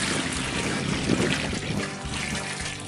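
Muriatic acid pours out of a hole punched in the bottom of a plastic jug, a steady close gurgling stream splashing into water, continuous for a few seconds.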